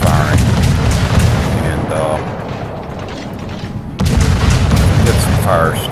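Naval guns of the destroyer USS Kidd fire rapidly in a video game, a dense run of heavy booms and rumbling blasts that eases off briefly and then surges again, loud and continuous.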